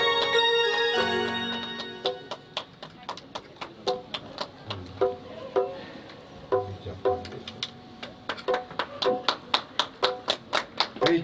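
Sparse, uneven hand clapping from the audience at a Bhagwat religious gathering, welcoming guests. Isolated claps pick up into irregular rhythmic bursts, with faint music or voices beneath early on.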